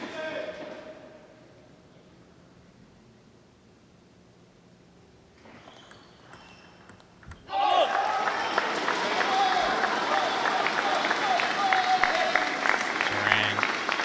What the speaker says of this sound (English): Crocs crowd are getting rowdy, trying to get Duran back into this.